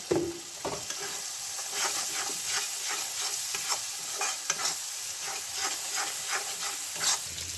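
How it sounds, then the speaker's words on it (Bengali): Spice paste for chicken biryani, salted, fries in a pan while a spoon stirs it, giving a steady soft sizzle with a regular run of scraping strokes, fairly quiet and without talk. "মশলাটা কষতে কষতে বন্ধুরা"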